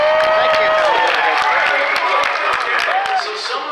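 Crowd at a live juggling comedy show by The Passing Zone breaks into steady applause with scattered whistles and cheers, dense and close, holding through the moment before easing slightly at the end.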